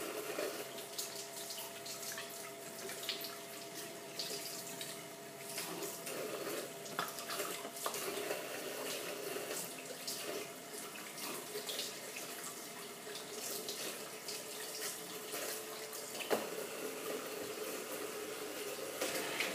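Water runs steadily from a tap while a refrigerator drain plug is washed, a continuous soft splashing hiss with faint clinks of handling, and no voices.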